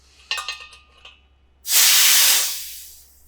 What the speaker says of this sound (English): That little burst of CO2 was just what's trapped between this valve and this valve.